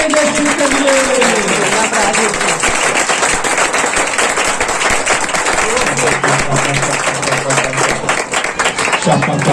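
A church congregation clapping loudly and steadily for Jesus during a Hindi-Punjabi worship service, dense sustained applause filling the space, with voices audible underneath.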